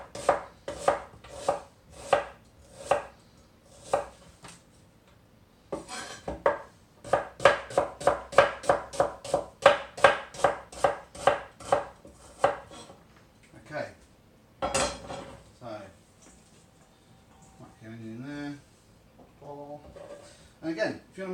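A knife chops a whole onion on a cutting board in a home kitchen, crisp rapid strokes in quick bursts with short pauses, then a few scattered knocks and scrapes near the end.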